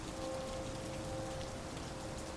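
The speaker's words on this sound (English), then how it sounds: "The three of you are suddenly in the rain" Steady rain falls over a city street, a dense, even patter of drops that stays faint and unbroken, with a low tonal hum beneath it and no voices.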